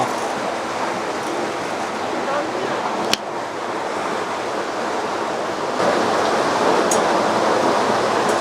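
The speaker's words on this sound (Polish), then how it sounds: "Tam jest rzeka." A river rushes through the Salentz gorge beside a via ferrata route. It makes a continuous broadband roar that swells slightly louder near the end, with a sharp click partway through and no clear talking.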